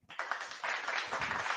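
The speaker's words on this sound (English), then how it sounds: "we need one more applause" Short burst of hand clapping from a few people on a wrestling-talk podcast, brisk and close, lasting under two seconds.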